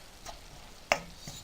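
A few light scrapes and taps of a spoon stirring beef stock in a frying pan, faint, with one sharper clink in the middle.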